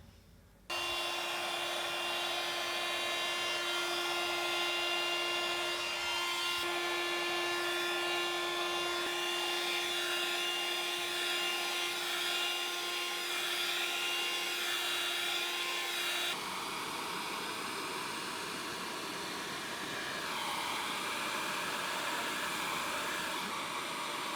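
A hair dryer blowing on wet paint on a sunflower artwork, a loud steady whine and rushing air held close and continuous, shifting in tone partway through as the angle or setting changes, with no talking.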